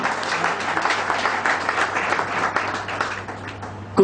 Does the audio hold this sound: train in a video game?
no